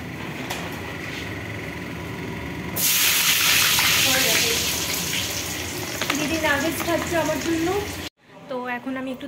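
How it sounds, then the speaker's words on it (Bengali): Chicken nuggets frying in a pan at home: a loud, steady sizzle bursts in suddenly and holds for several seconds, then cuts off abruptly, with faint voices mixed in toward the end. "আমার দিদি এখন আমার জন্য নাগেটস ভাজছে"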